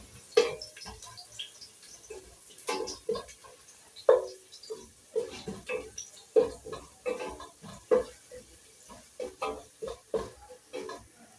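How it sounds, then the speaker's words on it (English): Carrots and other ingredients are stirred in a cooking pan for a beans and potatoes dish, with a steady series of scraping knocks and wet clinks at a loose, uneven rhythm, close and moderately loud. "Let us stir."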